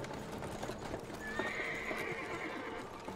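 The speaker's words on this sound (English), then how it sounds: "Yeehaw! I'm on a horse." Horse in Amnesia: The Dark Descent, hooves clip-clopping at a steady gallop under a rising whinny that stretches across the middle of the clip, all against a busy game soundtrack.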